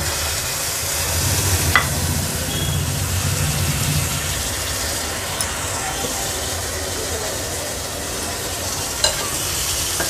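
Spiny lobsters go into ground masala paste frying in oil for a coastal Agri-Koli lobster curry, giving a steady loud sizzle with stirring scrapes and a few sharp clinks over roughly ten seconds, and no voice.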